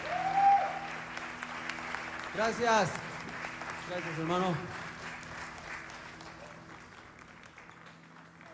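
Applause from a concert audience, soft and fading behind someone speaking over it, with a sustained tone lingering underneath.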